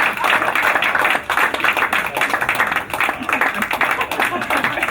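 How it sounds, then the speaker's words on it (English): A comedy-club audience at a fundraiser show applauds and claps steadily for the next comedian, a loud, sustained patter with some crowd voices mixed in. "Start clapping now for Mr. John Yeager."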